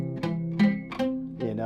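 A badly fingered guitar chord strummed several times in quick succession, each strum decaying with a muffled, buzzing, unclear tone.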